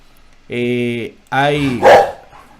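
A pet dog barks indoors in two short bursts, the second followed by a rougher yelp, clear and close with silence between.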